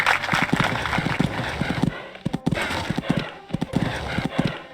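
Hooves of a dressage horse trotting on an arena surface at a horse trials event, steady rhythmic clip-clop beats in quick pairs, fairly close, with crowd or commentary murmur faintly underneath.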